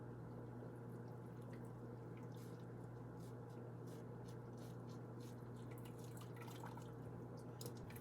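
Water drips and patters from freshly dyed bright yellow yarn as it is squeezed, a steady close run of small wet drips over a low constant hum, with no voices.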